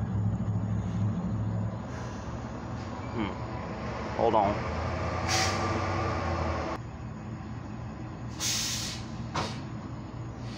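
A truck rumbles past on the road, its low engine drone joined by sharp hissing bursts of air, while someone speaks briefly nearby.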